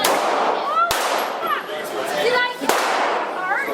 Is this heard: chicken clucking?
no